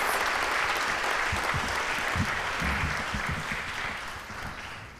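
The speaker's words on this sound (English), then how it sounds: "deserve another round of applause for their inspired renditions of those pieces" Sustained applause from a large audience at a university professorial lecture, a steady wash of clapping that fades slightly toward the end.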